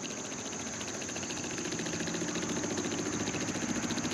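An electric fuel pump on a 1979 Jeep pumps gas with a rapid, steady ticking buzz over a low background hum, nearby and fairly quiet.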